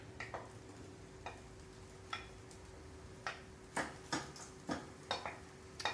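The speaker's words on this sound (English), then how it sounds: "let's get that barley in the pan and heat everything up and get it all mixed together" A spoon scrapes and taps through a barley mixture heating in a pan, scattered sharp clicks and scrapes spaced irregularly over a low steady hum, quiet and close with no voices.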